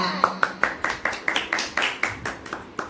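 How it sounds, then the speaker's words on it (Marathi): Rhythmic hand clapping by a small group at home during a Ganpati festival gathering, about a dozen steady claps close by, with voices talking over them. "या गाण्यासाठी तुला टाळ्या"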